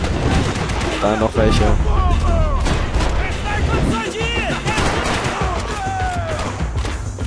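Dense gunfire and bursts of bullets flying in the Max Payne 3 video game, loud and continuous with impacts and booms, while someone talks over the shooting.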